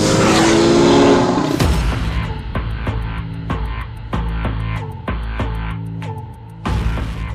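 A 2012 Porsche 911 (991) with a 3.8-liter engine and sport exhaust, valves open, screams loudly on a track, revving hard through repeated sharp upshifts with crisp cracks between gears.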